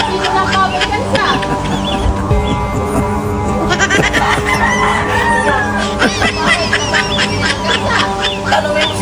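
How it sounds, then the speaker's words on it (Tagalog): A rooster crows among clucking chickens and bleating goats in a busy farmyard, with people talking throughout. "Eh, sino yung titilaok dyan? Eh, yung mga manok ko na yan."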